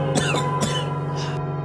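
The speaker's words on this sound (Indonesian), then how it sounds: "James batuk dengan hebat" Two sharp, forceful coughs burst out from a person in a storytelling scene, close and loud over a steady background hum, followed by a fainter sound before a sudden cutoff.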